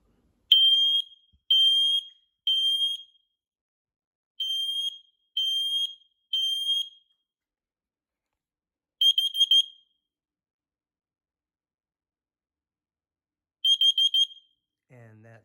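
A combined smoke and carbon monoxide alarm sounding its test cycle: loud, piercing beeps in groups of three, a pause, another triple, then two short double-pulse bursts separated by a long silence.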